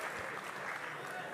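Crowd applause at a pétanque tournament, the Trophée des Villes 2017, breaking out after a shot; steady, dense clapping from many spectators, moderately distant and sustained throughout.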